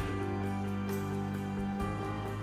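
Door locks of a 2019 Mercedes-Benz G-Class actuating, heard as two sharp, solid mechanical clacks about a second apart over a steady tonal background.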